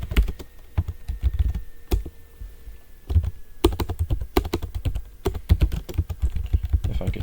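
Fast, uneven typing on a computer keyboard at a terminal, close and clear, with bursts of keystrokes separated by brief pauses.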